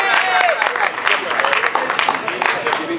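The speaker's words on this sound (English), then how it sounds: "Let's give those guys a big round of applause." A room of coworkers applauding retiring colleagues, dense, fairly loud clapping running the whole time, with cheers and chatter mixed in.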